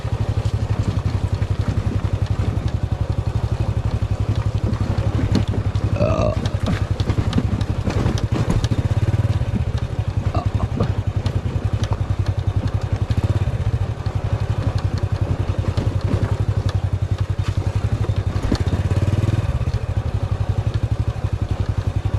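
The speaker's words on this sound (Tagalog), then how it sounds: "Medyo kumalampak ang ating motor dun." Motorcycle ride along a rural road in the Philippines, the engine running steadily close up throughout, with bumps and clatter from the machine jolting over the uneven surface.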